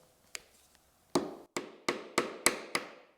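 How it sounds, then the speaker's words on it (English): A 3/8 chisel is struck into a wooden workpiece near a scribe line, giving one light tap and then five sharp, evenly spaced knocks close up, each ending in a short woody ring. "using my 3/8 chisel, back away from the scribe line"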